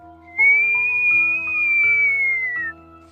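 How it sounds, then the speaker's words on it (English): A single long whistle rises slightly, holds, then slides down over soft sustained musical tones. "I heard a whistle."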